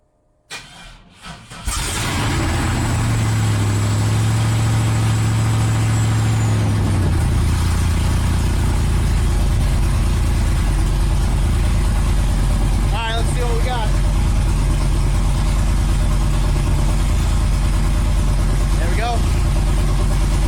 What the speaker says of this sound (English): So let me go start the truck.